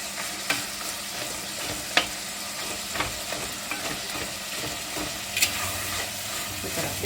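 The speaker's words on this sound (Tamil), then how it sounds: "நம்ம தக்காளி நல்லா வதக்கிடுங்க" Tomatoes sizzle steadily in a clay pot while being sautéed for fish curry, with a soft continuous frying hiss broken by occasional scraping and tapping stirs against the pot.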